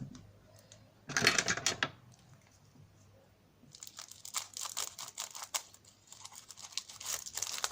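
Paper napkins unwrapped and handled for an Easter card craft: a short, close burst of crinkling rustle, a pause, then a longer run of crisp crackling and crumpling with no talk.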